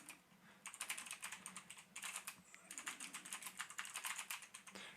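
Rapid typing on a computer keyboard during a remote desktop session, a close, steady patter of key clicks in quick bursts with brief pauses, no voices.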